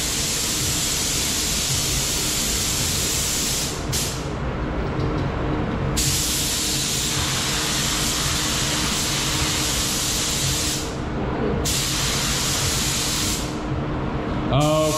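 Spray gun steadily hissing out Lumilor electroluminescent paint in coats, a loud continuous broadband spray that cuts off briefly around the 4, 11 and 14 second marks between passes.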